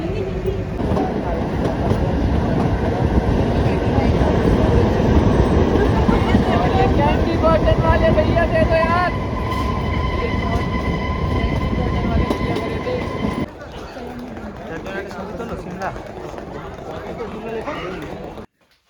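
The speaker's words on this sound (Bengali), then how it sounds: "তোমরা হয়তো বুঝেই গেছো এটা হচ্ছে টয় ট্রেন" Continuous rumbling and clattering of the Shimla toy train running, loud and steady, with talk over it; the sound drops and thins toward the end.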